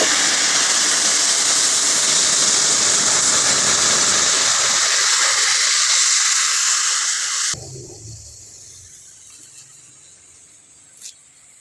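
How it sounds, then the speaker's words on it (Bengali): Water poured into a hot pan of frying rohu fish curry, a loud steady sizzle and hiss that cuts off abruptly and fades to quiet bubbling with a faint clink. "এবার দিয়ে দেবো পরিমাণ মতো জল।"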